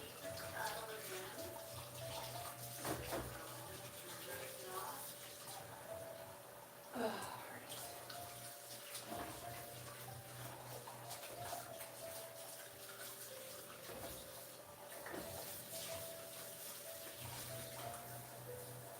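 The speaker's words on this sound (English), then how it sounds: "Okay, we're gonna need this paddle again. So I'm just gonna rinse it off." A stand mixer paddle is rinsed under a running kitchen tap, a low steady stream of water with faint splashing and a few clinks, quiet and somewhat distant.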